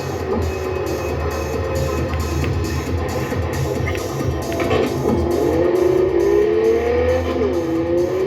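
The Outlaw Weiler car in Cyberpunk 2077 revs hard during a race, a loud continuous engine roar with rising and falling pitch sweeps, swelling slightly louder toward the end with faint tire noise.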